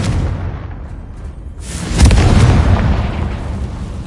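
Loud explosion burst from the Confringo spell in the PlayStation 4 Pro game Hogwarts Legacy, a sudden boom about halfway through rising out of steady background game noise and rumbling on as it fades.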